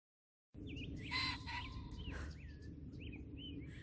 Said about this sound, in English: There's a pheasant.